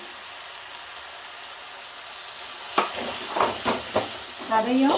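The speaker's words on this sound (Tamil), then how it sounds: "இந்த பச்சை வாசனை போகிறதுக்காக லைட்டாக வதக்கிக்கிறேன்." Tomatoes with chilli powder sautéed in a pan for a lentil-ball kulambu, a steady soft sizzle with a few louder stirring scrapes in the second half and a brief spoken word.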